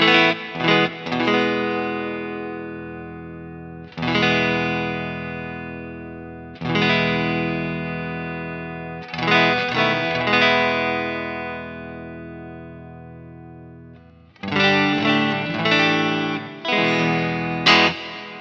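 Electric guitar played through a Kemper Profiler Player amp profile with a distorted, effected tone: repeated strummed chords that ring out and decay, then a run of quicker chord hits near the end.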